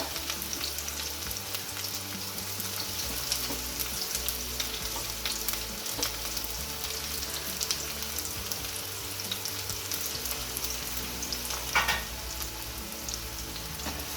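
Finely chopped onion sautés in hot oil with curry leaves, a steady close sizzle and frying crackle with faint stirring scrapes throughout, no voices.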